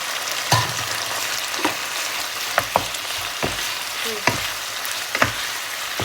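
Fish balls sizzle steadily in a hot pan, with scattered sharp pops and clicks of a utensil scraping and stirring throughout.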